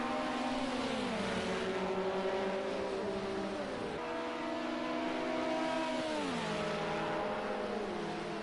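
LMP race cars lapping the Nürburgring combined circuit, one an open-top LMP2 prototype, engines droning loud and steady with rising pitch sweeps and downshifts as cars pass close, no talk over them.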